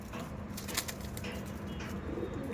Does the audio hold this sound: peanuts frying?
no